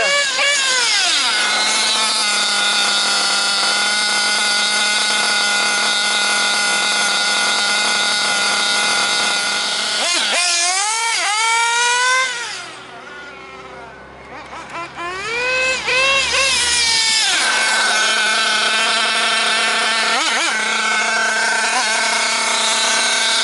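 Nitro-fuelled RC car engine running too lean, a loud high-pitched buzzing whine that rises and falls through repeated revs, briefly dropping out near the middle before screaming back up, close and alone.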